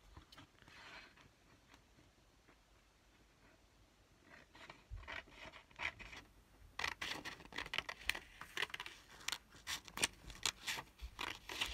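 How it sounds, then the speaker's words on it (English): Quiet rustling at first, then a run of crisp scissor snips, irregular and close, cutting through paper with soft handling noises between. "I'm gonna use a pair of scissors."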